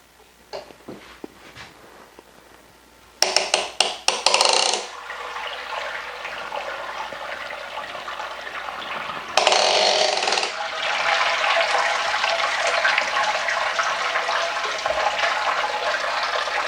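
Wort drains from a brewing kettle after a Samuel Adams Boston Lager clone brew, starting with metallic clanks and splashing bursts, then settling into a loud, steady rush of pouring liquid.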